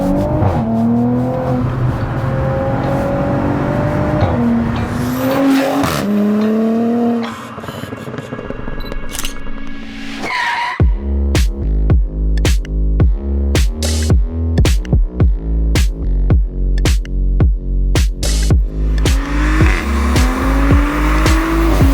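A 550 bhp hybrid-turbo Audi B9 S5 engine climbs through rising revs several times, then fires a long, rapid series of sharp throttle blips and pops, loud and close, ending with another climb.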